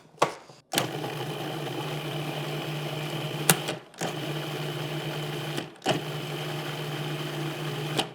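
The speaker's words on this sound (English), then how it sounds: "And now we're just going to whiz it up until it is a paste." A blender whizzes garlic and oil into a marinade paste in bursts, a loud steady motor whir with three short pauses between runs and no talking.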